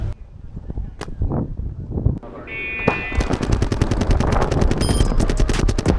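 A newest-model paintball gun firing outdoors, with a few single shots followed by a rapid, loud burst of continuous fire.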